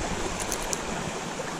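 Water from a stream running into a river, a steady broadband rush of flowing water at close range, continuous and even throughout, with no talk over it.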